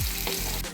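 Mustard seeds crackle in hot oil in a frying pan for a banana flower stir-fry, a dense close sizzle filling the short moment, loud and continuous with no voices.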